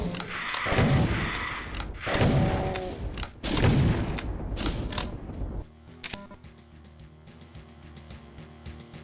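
A chaingun in Doom II, on the level The Living End, fires in three heavy rapid-fire bursts separated by short gaps, then gives way to quieter scattered clicks and mechanical game noises.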